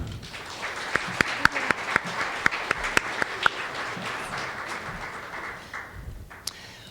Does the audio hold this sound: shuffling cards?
no